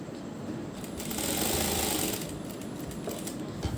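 A sewing machine runs a long basting stitch along a boat neckline in one continuous, close buzzing run that swells slightly in the middle before easing off.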